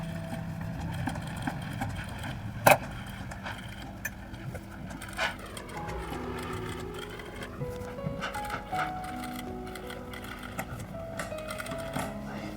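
Sewing machine stitching a blouse back neck design, an irregular run of soft mechanical whirring and clicks with occasional sharper knocks, close and fairly quiet.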